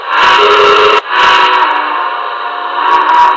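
A Paragon 2 Hudson model locomotive gives a steam whistle blown at a lower pitch. The blasts are loud and close and run almost continuously, with one short break near the start and a slight change in tone toward the end.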